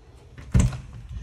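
A newer door at a covered, screened house entryway opening: a single short thump with a brief rattle near the middle, close by, with quiet room tone around it.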